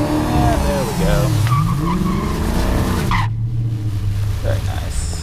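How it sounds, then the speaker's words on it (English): A Dodge Challenger RT Scat Pack 1320 doing a burnout at a drag strip, a high-revving V8 roar with a long squealing tire screech rising and falling, loud and close, while someone talks over it. "we're gonna build up some RPM and do a good old-fashioned burnout"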